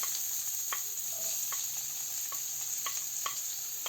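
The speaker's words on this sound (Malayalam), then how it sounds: "ഇതിലേക്ക് നമുക്ക് ഇനി കട്ട് ചെയ്ത് വെച്ചിരിക്കുന്ന സവാള ചേർത്ത് കൊടുക്കാം." Chopped onions sizzle steadily in hot sunflower oil over a medium flame, a dense crackling hiss broken by a few soft stirring clicks, close and continuous with no talk.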